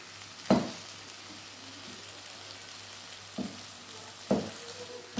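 Tomatoes for garlic tomato chutney go into a pan of frying onions, a soft steady sizzle punctuated by three sharp clanks of the pan and spoon.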